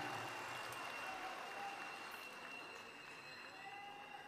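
An audience at a patriotic symphony and speech event applauds, a faint, dense, steady wash of clapping that fills the whole stretch from a distance.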